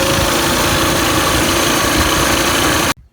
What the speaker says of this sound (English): First, the original mini bike.